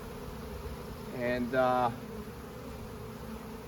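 Honeybees hum steadily around an open hive during a hive split, a low continuous buzz with a brief spoken word and a short louder swell in the middle.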